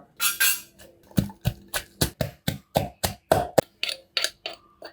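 Chili, lemongrass, kaffir lime leaves, shallots and garlic are pounded in a mortar, giving a steady series of about fifteen sharp, close, loud thumps, each with a brief knock, and no talking.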